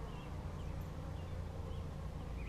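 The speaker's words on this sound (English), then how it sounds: "you can see that there's just lots and lots of bees." Honeybees buzz in a hive opened for inspection on a bee farm, a soft, dense, continuous hum of many insects at close range, steady and fairly quiet throughout.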